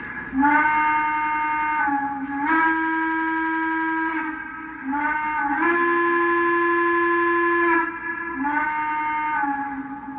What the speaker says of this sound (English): This is an amazing Hooter style whistle.